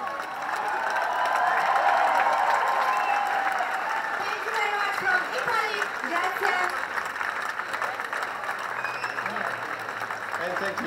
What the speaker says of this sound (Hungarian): És a közönség egy hangos búcsútapsal is búcsúzhat.